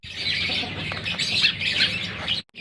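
Lovebirds squawk and chatter at a feeder made from a recycled bottle, a dense, loud, continuous stream of harsh calls close by that cuts off abruptly at the end.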